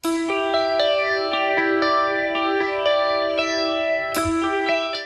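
Opening of a song, played on an effected electric guitar with chorus and echo: a repeating, ringing riff of bright sustained notes over a held low tone, loud and continuous.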